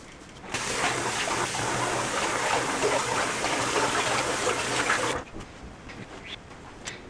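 Tap water runs steadily into a bathroom sink during post-shave cleanup, a loud broadband gush that starts abruptly, holds for about five seconds, then cuts off to quiet room tone.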